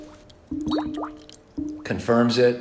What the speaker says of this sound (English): That boil is from the air and water working its way out of the actual leak itself.